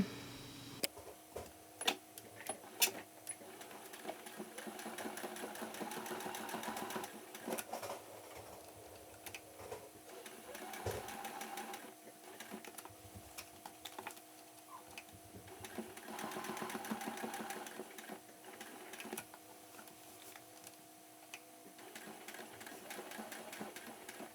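Sewing machine top stitching a placket on long johns, a close, steady run of fast mechanical needle clatter that continues for over twenty seconds with brief pauses and changes in pace, with no talk.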